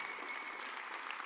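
Steady conference audience applause filling the hall, dense even clapping from a large crowd at a journalism conference, sustained throughout with no pauses.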